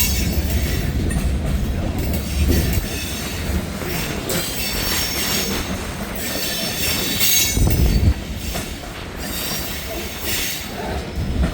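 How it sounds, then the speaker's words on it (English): A heavy grain train rumbles past on a cold, windy morning in Hamilton, its wheels squealing loudly and continuously over a deep, steady roar of rolling wagons, close and unbroken throughout. "There's a heavy train here."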